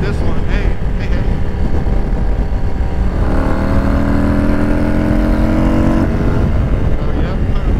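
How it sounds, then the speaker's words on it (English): A 2021 Harley-Davidson Low Rider S engine revs hard against its rev limiter at highway speed, a steady stuttering drone held for a few seconds over constant wind and road roar, with a rider's voice briefly audible. "yep, rev limiter"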